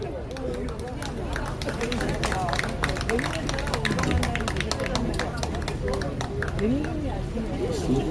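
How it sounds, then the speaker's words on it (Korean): An audience at a memorial concert claps to welcome performers to the stage, a dense, steady patter of many hands with crowd murmur and voices underneath. "박수로 맞아주십시오"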